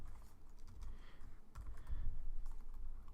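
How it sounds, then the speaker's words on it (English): Rapid, uneven keystrokes on a computer keyboard while entering a number into a Python if-else program, close and moderately loud, in irregular bursts with no voices. "Oops, my typing is really bad."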